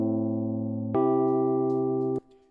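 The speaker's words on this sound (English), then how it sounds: "So right now, these 2 first chords sound like this." Two sustained keyboard chords played on white keys of a chord progression, the first held for about a second, then a brighter second chord ringing for over a second before cutting off, alone and clear.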